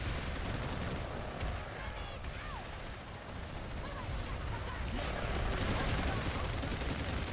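A Planetside 2 battle fills the air with continuous dense gunfire, grenade blasts and rocket fire. Faint voice commentary sits over it.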